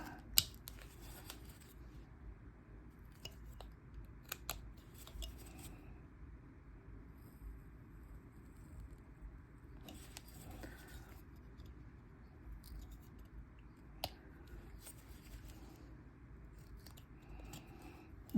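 Knife carving triangular wood chips out of a carved wooden bust: quiet, close, sharp scraping cuts in short irregular bursts separated by near silence.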